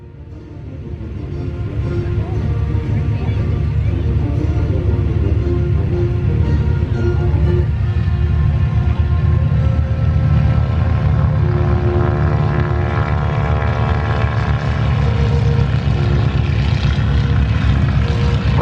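Airshow airplanes, one with a 300-horsepower Lycoming engine and variable-pitch propeller, rev up for takeoff on the runway, the propeller roar swelling quickly then holding loud and steady with rising engine tones, close by and with no talk.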